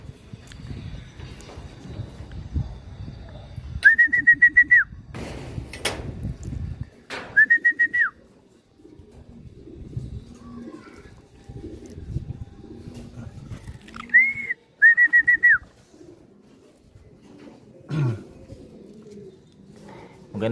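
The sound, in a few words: racing pigeon arriving at the loft in a derby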